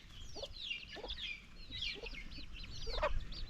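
Chicks and a hen sit in a cage together, giving soft clucks and several quick chirping peeps at close range over a low background murmur.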